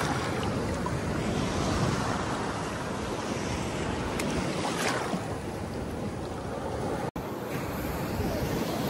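Sea waves washing in at Jesolo beach in Italy, a steady broadband surf roar with wind buffeting the microphone, continuous and fairly loud, cut off by a sharp break near the end.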